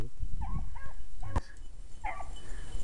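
Dogs barking and yipping outdoors at a conservation area, several short excited barks and whimpers in quick bursts, moderately near, over a light outdoor background.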